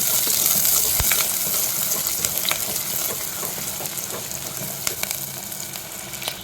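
Masala sizzles steadily in a pan with green chillies and curry leaves for a fish curry, a continuous frying hiss broken by sharp stirring clicks and spatula scrapes against the metal.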